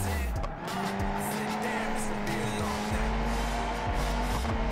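A car in BeamNG.drive, driven with a force-feedback steering wheel, slides under the handbrake while the engine drones steadily and the tires squeal in several rising and falling streaks, up close.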